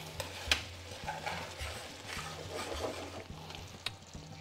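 Chicken korma simmers in a pan with a soft, low bubbling sizzle and occasional scrapes and taps of a spoon, and the sound stays fairly quiet and close throughout.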